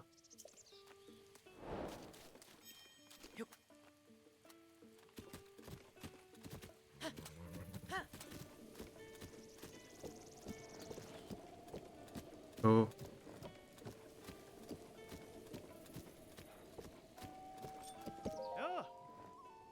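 Rhythmic hoof clip-clops from a white horse in Zelda: Breath of the Wild, fairly faint, with game music and a brief voice, plus one sharp louder hit midway.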